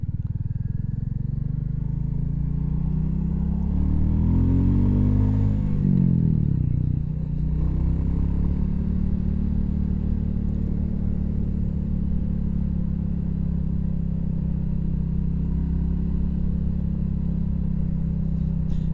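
A Royal Enfield Classic 350 single-cylinder motorcycle engine thrums low and steady while riding on the road. The revs rise and fall in a sweep partway through, then settle into a smooth, continuous drone.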